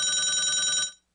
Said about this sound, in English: After that, we have telephone ring.